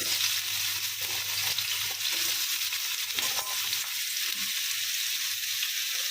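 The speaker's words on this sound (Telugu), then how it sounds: "ఆయిల్ వేడైన తర్వాత ఇందులో కట్ చేసుకున్న బీరకాయ తొక్కు వేసేసుకుందాం" Cut ridge gourd peel sizzles steadily in hot oil in a pan, a continuous close frying hiss with a few faint stirring scrapes and no talk.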